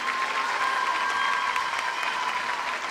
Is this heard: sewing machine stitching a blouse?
no